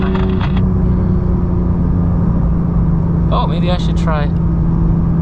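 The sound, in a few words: Porsche 992 GT3 Touring manual driving on rural roads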